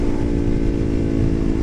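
A 2011 KTM Duke 125 single-cylinder motorcycle fitted with an IXIL Hyperlow exhaust, engine running steadily at a loud, close, sustained pitch, with a deep throaty rumble and no talk.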